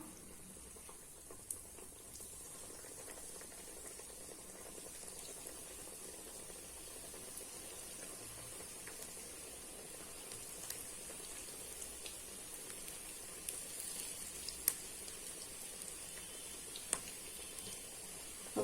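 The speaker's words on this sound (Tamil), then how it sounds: "இப்போ எடுத்து மாவு எடுத்து சின்ன சின்ன போண்டா மாதிரி போட்டுடலாம்" Gram flour pakoda batter, dropped in small bonda-sized portions, deep frying in hot oil in a kadai over a medium flame, giving a steady, even bubbling crackle with faint clicks and no talk.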